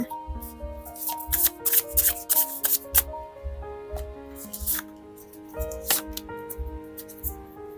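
Tarot cards being shuffled in a quiet indoor setting, giving repeated soft riffling and rubbing bursts in an uneven rhythm, close by, with faint tonal background music underneath.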